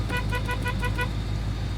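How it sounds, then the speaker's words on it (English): A 1969 Plymouth GTX 440 sounds its horn in six quick, evenly spaced toots over a steady low engine idle, then the horn stops while the motor keeps running. "1969 GTX horn."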